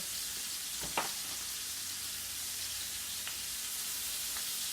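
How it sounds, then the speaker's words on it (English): Hamburger patty cooking in a pan alongside squash and green beans, giving a steady broadband sizzle with a few faint utensil clicks, no talking. "as your hamburger cooks, your squash and your, well, I put green beans in mine anyway, they'll kind of saute"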